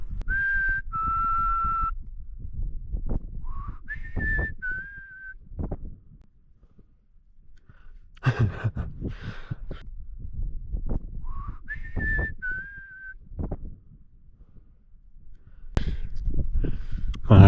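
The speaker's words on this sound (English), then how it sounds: "So I'm going to whistle now" A man whistles outdoors at a wild camp in the Lake District's Central Fells, giving a few short, clear tonal phrases, some steady and some rising, between bursts of wind and rustling close to the microphone.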